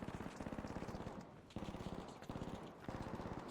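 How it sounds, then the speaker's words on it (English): Video game machine gun firing in rapid, evenly spaced bursts: three long strings of close, punchy shots with brief gaps between them, loud and alone with no talk over them. "someone with a huge fucking machine gun"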